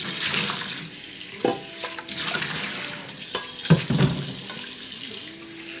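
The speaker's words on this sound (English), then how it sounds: "So three or four times, wash and drain, wash and drain" Running tap water splashes steadily into a sink as aster scaber greens are rinsed and rubbed by hand, with a few louder clunks and splashes along the way.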